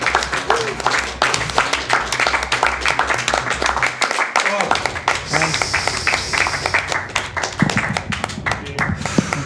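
A small group claps steadily for the finish of a Super Metroid map randomizer speedrun race, dense close applause continuing throughout with voices talking over it.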